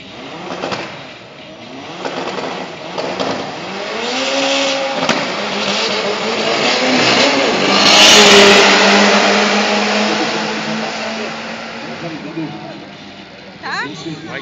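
Turbo B drag race cars rev their engines in rising and falling surges while leaving the pits, heard loud and close with a public-address announcer talking over them.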